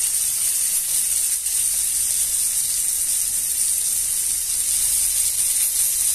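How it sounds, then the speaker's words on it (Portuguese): Steady, loud sizzling and hissing of beef eye of round searing in a very hot pan for roast beef, continuous throughout with no voices. "Agora vamos selar a outra parte."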